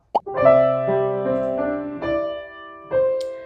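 A piano chord played as a slow upward roll, notes entering one after another and ringing together, followed by a second rolled chord.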